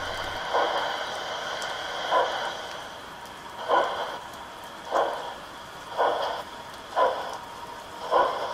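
A train departs along a railway line, its wheels striking rail joints in a regular series of seven soft clunks about a second apart over a faint steady background hiss.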